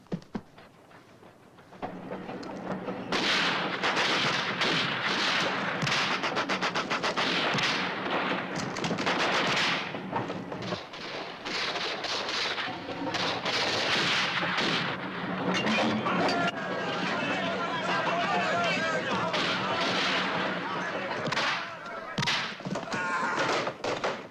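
Gunfire and heavy thudding impacts in an action movie scene, a dense, loud, sustained barrage of shots and booms running for about twenty seconds after a quieter opening.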